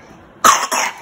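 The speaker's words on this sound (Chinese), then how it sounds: "好啦，不要故意咳嗽。" A child gives two sharp, close coughs in quick succession, loud and clear after a quiet moment, with no talking over them.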